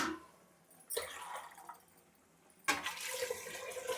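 Water pours into a cooking pot in two bursts, a brief splash followed by a steadier, louder pour, as water is added for boiling basmati rice for Mughlai biryani.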